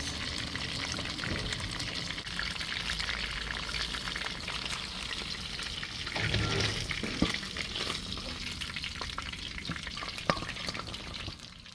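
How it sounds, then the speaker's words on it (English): Steady sizzling of fish frying in hot oil for Jamaican brown stew fish, continuous and close, with a few clinks and scrapes of utensils partway through. "Okay, I've finished frying my fish."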